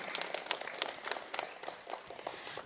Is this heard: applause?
yes